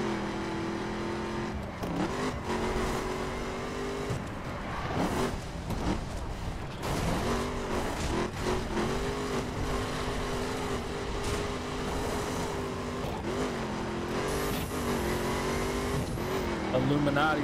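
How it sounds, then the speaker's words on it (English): Car engine from the video game The Crew, revving and shifting with rising and falling pitch, tire squeals and bumps, loud and continuous while someone talks over it now and then. "Whoa, this car is very"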